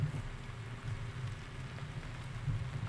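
Rain falls steadily in Farming Simulator 17 at Lawfolds, Aberdeenshire, a soft continuous patter with low rumbling beneath, faint and unbroken.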